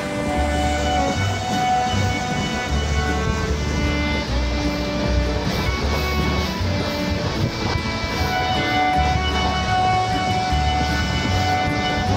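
The Triveni Express runs with a loud, steady rumble and rattle of carriages, a constant roar with low droning tones throughout and no clear voices.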